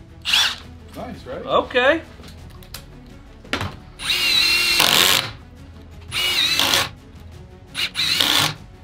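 A Milwaukee cordless drill revs in several loud bursts of whirring, each lasting about a second, with short pauses between them. People talk briefly near the start.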